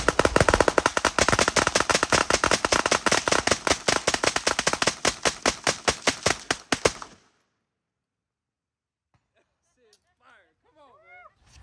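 Gunfire at a shooting range: a long, rapid string of loud, sharp shots in quick succession for about seven seconds, then sudden quiet with faint voices in the distance.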